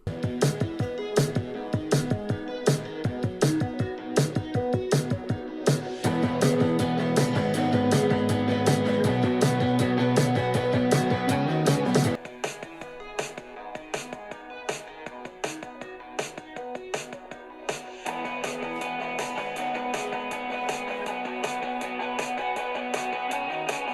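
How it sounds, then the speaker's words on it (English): Rapid, irregular clicking of laptop keys on a Samsung Galaxy Book4 Ultra or Asus laptop, dense and close, shifting partway through to a lighter, sparser pattern of trackpad clicks and taps. "Here's a sample of using both the keyboards and the trackpad so you can hear what they sound like."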